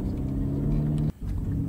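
A car driving in On Earth As In Hell, with a steady low engine rumble and hum that cuts out for a moment and then resumes.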